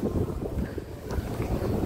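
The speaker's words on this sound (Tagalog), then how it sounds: "Ang hangin!" Strong wind buffeting the microphone in low, rumbling gusts, continuous and close for under two seconds, with no voices.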